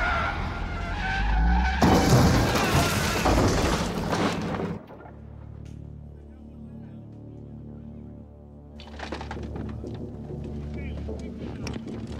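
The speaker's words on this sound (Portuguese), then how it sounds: "dirigindo um carro contra a entrada do prédio e inicia um massacre" In a scene from the 1984 film The Terminator, a car skids and crashes into a building entrance: loud roaring, screeching noise for several seconds, a quieter stretch, then more commotion, with voices present.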